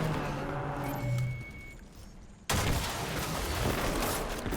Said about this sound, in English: Now, that's a non-tracking shot, just because I wanted to make sure it didn't track into any debris in front of me.